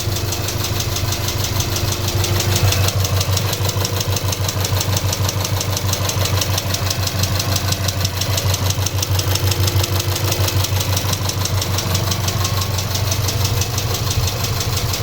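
A VW Polo 1.2 TSI engine, just fitted with a new timing chain, idles steadily up close, with a continuous rumbling drone and a slightly uneven, lumpy pulse.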